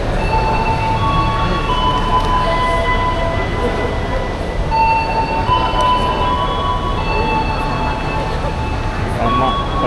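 The Madiun Jaya train sits at a station, its low rumble and hum filling the platform, with sustained tonal whines and hisses drifting over the steady background noise.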